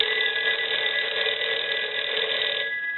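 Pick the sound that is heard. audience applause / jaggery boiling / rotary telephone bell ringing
rotary telephone bell ringing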